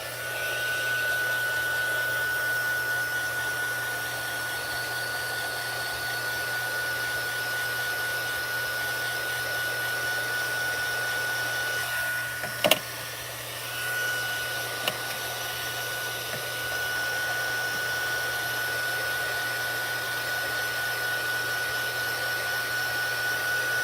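A hair dryer blows with a steady, even whir for a long stretch, briefly interrupted by a couple of clicks and bumps midway.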